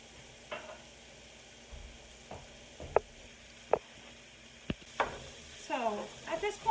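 Garlic stirred and heated in a pot for lasagna soup, with a low constant sizzle and scattered spoon scrapes and clicks, growing busier toward the end, close by and quiet with no talk.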